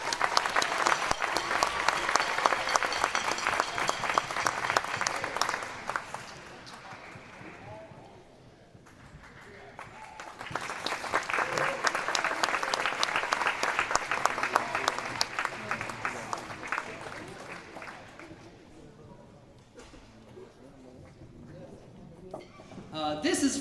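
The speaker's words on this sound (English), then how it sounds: "Give them a round of applause." Audience applause fills a school band concert for grades 5-8, two long loud bursts of clapping with a dip between them, then rising again at the end.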